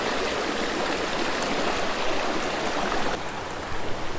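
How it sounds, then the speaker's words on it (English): Small waterfall spilling into a cold mountain stream, a steady broadband rush of splashing water close by, continuous and fairly loud with no voices over it. "This little waterfall up here."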